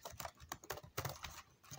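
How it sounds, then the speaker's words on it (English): Quiet typing on a computer keyboard, a quick irregular run of soft clicks and key taps close up, with no talk over it. "I'm typing."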